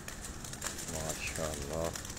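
Pigeons released from a rooftop in Rawat, their wings flapping and fluttering with faint coos over steady outdoor background noise, as someone talks nearby.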